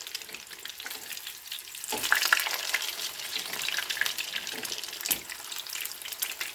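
Food sizzles and crackles steadily in hot oil, with a few sharper pops and clinks of a utensil, close up and without speech.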